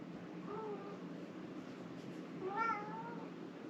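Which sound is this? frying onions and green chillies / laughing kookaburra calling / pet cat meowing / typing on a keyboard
pet cat meowing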